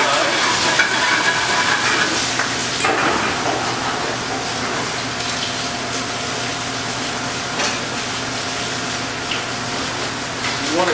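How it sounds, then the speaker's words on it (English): Hot vegetables sizzle and spit steadily in a pan as local white wine is poured in to deglaze them, a loud, continuous crackling hiss with occasional stirring scrapes throughout. "We're going to take some local wine here, some white wine. We're going to deglaze these vegetables when they're nice and hot."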